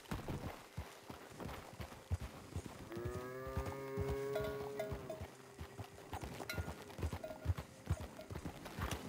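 Horse hooves in Red Dead Redemption 2 clip-clopping in a steady, close walking rhythm, with a long cow moo rising through the middle.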